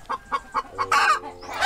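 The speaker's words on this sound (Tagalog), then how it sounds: "Ang ingay ng manok ah." A hen clucks in a steady run of short, evenly spaced notes, then breaks into a louder drawn-out cackle, close and clear in a backyard setting after laying an egg.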